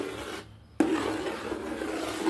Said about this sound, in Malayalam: നെയ്യും ഒക്കെ നന്നായി ഇളക്കി മിക്സ് ചെയ്ത് വരട്ടി എടുക്കാം